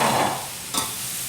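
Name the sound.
sausage and onions sizzling on the grill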